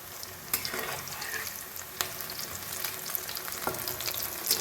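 Spring onion pakoras deep-frying in hot oil on a medium flame, a steady close sizzle and crackle with a few sharper pops, no voices.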